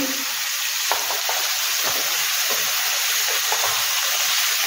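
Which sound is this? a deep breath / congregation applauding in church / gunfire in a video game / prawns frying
prawns frying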